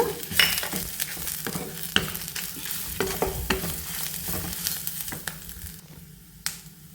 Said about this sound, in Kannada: ಇದನ್ನು ಹಾಕಿಬಿಟ್ಟು ಒಂಚೂರು ಹಾಗೆ ಎಣ್ಣೆಯಲ್ಲಿ ಚೆನ್ನಾಗಿ ಫ್ರೈ ಮಾಡ್ತೀನಿ